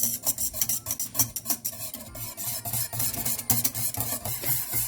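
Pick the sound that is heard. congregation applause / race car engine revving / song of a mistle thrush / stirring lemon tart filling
stirring lemon tart filling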